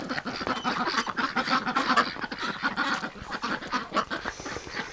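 Muscovy ducks and geese quack and honk in a dense, busy chorus close by, with overlapping calls running steadily throughout and no talking.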